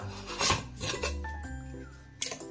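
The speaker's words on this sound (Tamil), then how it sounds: "குக்கரை நம்ம ஓபன் பண்ணி பாத்துடலாம்" The metal lid of a pressure cooker holding sweet pongal is lifted off with a short close grating rub, a scrape and a light metallic clink near the end.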